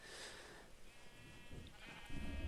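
A sheep bleating on a farm in the Minecraft video game, a few faint, distant bleats over quiet game ambience, with a louder rumble near the end.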